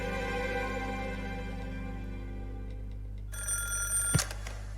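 A telephone bell rings in a Dr. Stone anime trailer, a steady ringing tone over a low constant hum, ending in a brief sharp clatter near the end.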